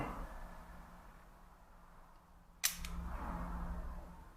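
A Vilia mechanical film camera has its shutter released: a single sharp metallic click, close and crisp, followed by faint background hiss.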